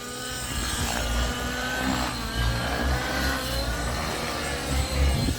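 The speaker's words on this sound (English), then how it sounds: "We have Matthew and Maxi flying their Fury 57 Nitro helicopter." A Fury 57 Nitro radio-controlled helicopter with an OS engine flies at a 3D flying event, its engine giving a steady, fairly loud whine with slight surges in pitch, heard alone and without talking.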